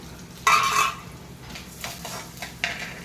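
Chana dal, urad dal and coriander seeds roasting in a pan with a little oil, stirred with a spatula that scrapes and clinks against the metal, loud at first, then softer, over a light sizzle.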